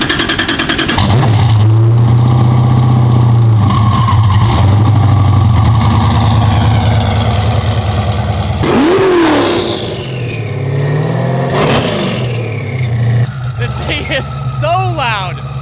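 An 800HP Lamborghini engine is started close by and settles into a loud, steady rumbling idle, then snaps through a couple of sharp revs that fall away. A voice speaks briefly near the end.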